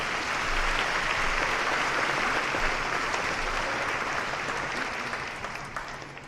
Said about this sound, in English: let us give a round of applause to all of our Senior Student Council members.